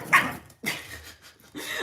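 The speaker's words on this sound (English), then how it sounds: "And these are two new puppies." Small puppies give a few short, sharp barks and yips, close by, separated by brief pauses, with no talking.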